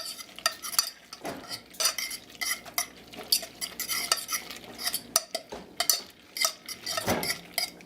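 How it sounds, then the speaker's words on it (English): A utensil stirs hamburger mac and cheese in a pot, with scraping, clinking metal and a soft sizzle underneath, close and continuous with uneven strokes. "you're gonna want to stir that in"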